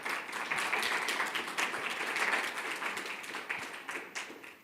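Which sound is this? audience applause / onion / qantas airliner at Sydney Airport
audience applause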